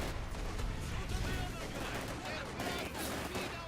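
Infantry gunfire from Company of Heroes 2, a dense, continuous crackle of rifle and machine-gun shots filling the whole stretch with a steady roar of battle, with voices shouting over it.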